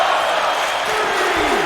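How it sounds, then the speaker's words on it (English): A live wrestling crowd in Worcester roars and cheers after a tornado DDT, a loud, sustained mass of shouting voices with a rising whoop near the end. "this Worcester crowd is loving it"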